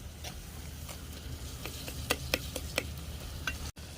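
Fish curry (meen kulambu) cooks in a pan while a spoon stirs it, giving a low steady simmer with a few sharp scraping clicks near the middle. No one speaks.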